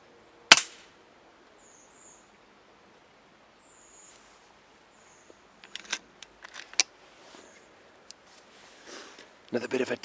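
A single sharp air rifle shot cracks close by at the start and strikes a squirrel. Quiet follows, with faint bird chirps, then scattered small clicks and rustles toward the end.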